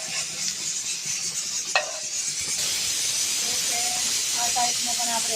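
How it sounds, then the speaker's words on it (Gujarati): Gujarati thepla roasting on a pan in about half a spoon of oil, a continuous soft sizzle and hiss with a brief scrape partway through and faint clinks near the end. "અડધી ચમચી તેલમાં પણ થેપલા બહુ સરસ રીતે શેકાઈ જાય છે"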